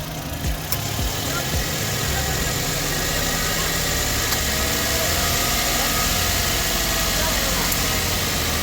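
A Suzuki DA64W turbo engine idles steadily up close, a constant low rumble with faint mechanical ticking, no knocking, and a broad hiss over it.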